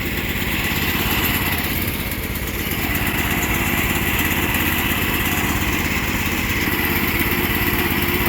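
A small engine idles steadily while warming up with the choke on, a loud, continuous buzzing drone with a slight uneven throb, close by and without talking.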